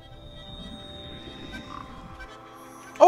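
A frog croaks in the video game Papo & Yo, a low rattling croak running for a couple of seconds at moderate level, followed by a short sharp game sound at the end.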